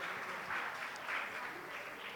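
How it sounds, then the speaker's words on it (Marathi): A seated audience at a memorial concert claps to welcome a classical singer to the stage, a faint, dense patter of applause heard from a distance that rises and falls a little. "त्यांचं आपण टाळ्या वाजवून"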